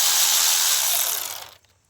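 A rapid burst of ratchet clicking while a 10mm bolt is backed out on a Nissan Murano engine, loud and close at first and then fading away into quiet after about a second and a half.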